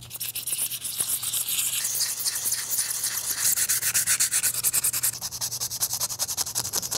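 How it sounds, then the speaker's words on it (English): A large Lego-style sword and shield prop is scuffed with 100 grit sandpaper. Close, rapid back-and-forth rasping strokes run steadily throughout, growing sharper and more rhythmic toward the end. "I'm just taking 100 grit sandpaper and making everything not shiny anymore"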